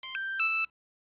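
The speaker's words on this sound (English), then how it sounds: "and a triple tone will sound" Three quick electronic tones from a LifeSafer FC100 breathalyzer ignition interlock signalling a passed test sound in a short rising-and-falling pattern, clean and close, then silence.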